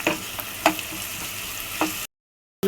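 Chilies and onions sauté for chicken salna, hissing loudly and steadily in the pan with a few spatula scrapes. The sound cuts to a brief silence before returning.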